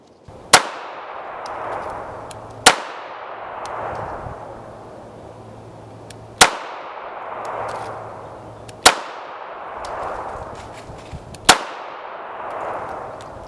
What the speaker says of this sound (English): you can really get those shots on target